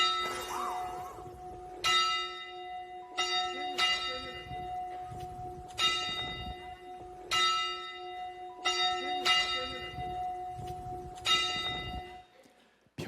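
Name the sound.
church bell struck, the late father's bell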